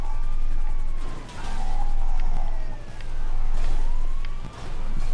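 Wailing emergency siren from an ambulance in the video game GTA, sweeping up and down in long repeating cycles, loud and steady over a low engine rumble.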